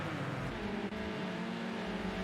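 Race cars in Project Cars 2 circle Brands Hatch GP in a touring car event, a BMW among them, with a steady dense engine drone, close and loud, that dips once briefly.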